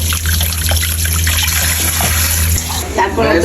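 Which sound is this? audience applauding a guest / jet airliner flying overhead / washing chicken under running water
washing chicken under running water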